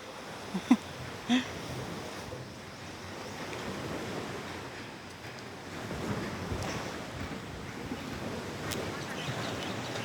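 Sea waves wash against the coast near a castle wall in a steady, continuous roar, with wind buffeting the microphone and a couple of sharp knocks early on.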